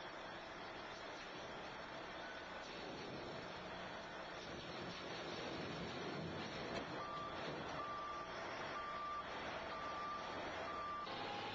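Conveyor truck with a bedding conveyor hopper backing up at a pipe-laying site, its steady reversing beeps sounding at regular intervals over a continuous, fairly loud engine rumble.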